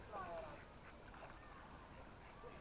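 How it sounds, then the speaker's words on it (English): Ducks competing with swans for bread give a few soft, faint quacks early on, then scattered calls over quiet background with a voice murmuring at low level. "The ducks want to steal their bread away from them."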